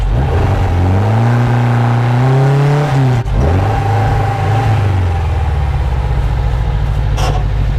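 A 1974 VW Super Beetle with a 2054cc stroker engine drives on the highway, its air-cooled motor droning loud and close while rising through the gears, a brief shift dip, then a steady cruise.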